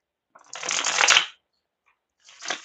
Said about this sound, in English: am not going to shuffle on top of the table because it will shake the camera